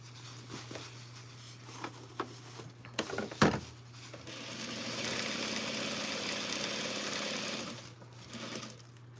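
A sewing machine stitches a 1/2 inch seam along pinned inseams, first with a few scattered clicks and taps, then a steady whir of continuous stitching that stops near the end. The running machine is close and moderately loud, with no one talking.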